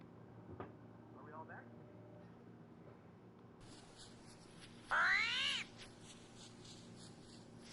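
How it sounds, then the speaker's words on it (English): In the Green Hell survival video game, an armadillo lets out one loud, rising and falling roar-growl, similar to a big cat's call, lasting under a second against a quiet jungle ambience with faint earlier chirps. "the armadillos have a bit of a roar growl to them that is very reminiscent of the big cats"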